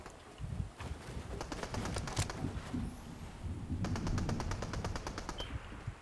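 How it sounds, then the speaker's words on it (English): Rapid bursts of automatic gunfire echo in a video game firefight near a bridge, two long strings of fast shots separated by a brief lull, moderately loud over low background rumble. "Is he really shooting him from the bridge?"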